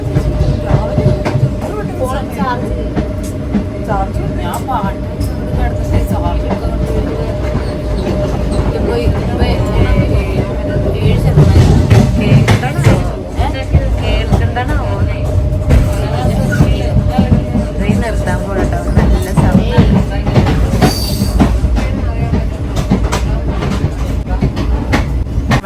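Steady rumble and rhythmic clatter of a moving train fill the whole stretch, loud and close, with a faint squeal partway through.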